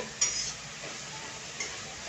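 Oil sizzling in a wok with a steady hiss, punctuated by a couple of brief scraping stirs.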